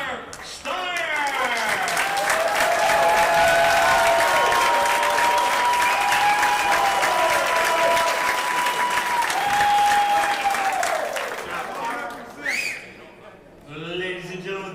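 A crowd applauds the runner-up at a billiards trophy ceremony at a pool open tournament, loud sustained clapping with whistles and cheers layered on top, tapering off before a voice speaks at the close.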